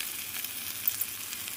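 Cauliflower and tomato frying in a pan, a steady close hiss of sizzling oil with faint crackles throughout.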